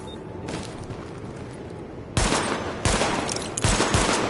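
Gunfire at highlighted targets during a weapon test in the video game The Division, a few sharp shots and short bursts cracking loudly over a steady ambient hum, growing denser in the second half.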